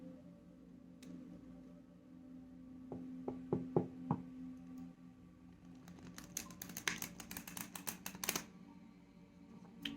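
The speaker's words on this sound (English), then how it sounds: "One more shuffle." Tarot cards being shuffled: a few crisp taps, then a rapid riffle of flicking cards, close and fairly quiet.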